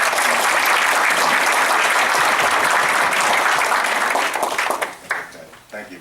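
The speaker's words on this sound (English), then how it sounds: "thank you for the applause" Loud, dense applause from a public forum audience on a January evening, many hands clapping steadily for several seconds before thinning into scattered claps and a voice near the end.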